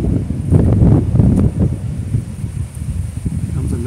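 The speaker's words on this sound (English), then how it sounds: "It's a big gust of wind. You can see the trees over there." A strong gust of wind roars through nearby trees, with heavy low buffeting against the microphone that eases off, then keeps rustling at a lower level.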